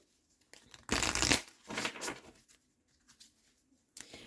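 Oracle cards being shuffled and drawn, two close riffling bursts of card stock followed by softer slides and a brief final flick.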